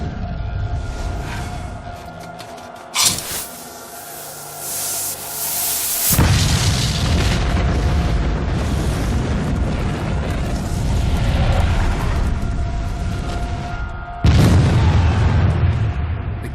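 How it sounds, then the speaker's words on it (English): Civil War cannon firing canister shot at Gettysburg, the tin casing bursting and spraying iron balls: a sharp booming blast, then sustained loud rumbling roar with a second heavy burst near the end, no talk. "The casing explodes, spraying the iron balls into advancing troops at hundreds of yards per second."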